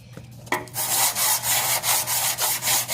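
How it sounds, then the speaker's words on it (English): A sanding block with sandpaper is rubbed back and forth over a truck frame, making steady, loud rasping strokes in an even rhythm, close up and with no voices. "we're going to take sandpaper and a sanding block"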